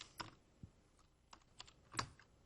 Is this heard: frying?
no